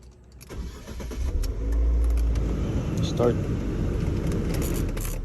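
An automatic 2015 Fiat 500L cranks and catches, its engine surging loudly to life before settling into a steady close idle.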